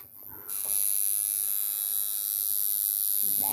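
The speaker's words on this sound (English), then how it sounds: "that's the sound of the tattoo gun" Continuous loud electric buzzing from a tattoo gun with a steady whine, starting just after a brief lower hum and holding without pause.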